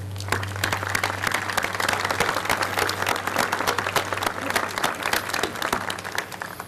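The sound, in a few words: audience applause at the Walk of the Flags dedication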